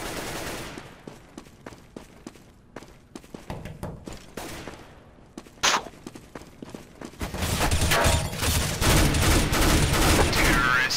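Bursts of gunfire in the CS:GO match on the Office map, scattered single shots and short volleys early on, then a dense, loud sustained barrage of automatic fire in the final seconds.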